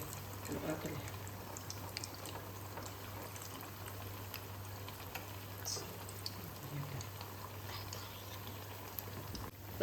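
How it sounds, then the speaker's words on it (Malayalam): Banana fritters (pazhampori) deep-fry in oil with a soft, steady bubbling, faint and continuous, while a voice talks over it. "നമ്മളെ പഴംപൊരി ഒന്ന് പൊരിഞ്ഞ് കഴിഞ്ഞാൽ അത് തിരിച്ചിട്ട് കൊടുക്കാം"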